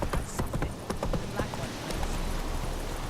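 Hooves of the horse Roach clip-clop steadily in The Witcher 3 game, a quick even trot, close and clear, with a voice talking over them.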